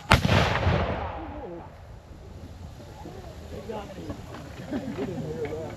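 A Civil War reenactment cannon fires once with a loud, sharp boom at the start, then rumbles and fades into crowd noise and scattered talk.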